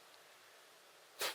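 A single sudden sneeze bursts out near the end after a stretch of quiet room noise, loud and brief, coming from someone just off to the side during a conversation about the UFC.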